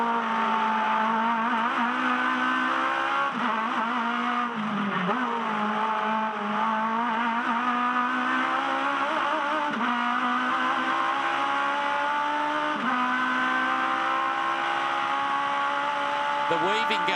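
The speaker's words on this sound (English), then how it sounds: "This is a hot lap in an Aussie racing car." An Aussie Racing Cars series car on a hot lap at the Clipsal 500, its engine screaming at full throttle without pause, pitch rising and dipping with gear changes and corners, loud and close.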